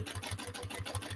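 A sewing machine runs a line of top stitching on the fabric of a fold-over clutch bag, an eighth of an inch from the edge at a long 4.5 stitch length, giving a fast, even needle rhythm close up.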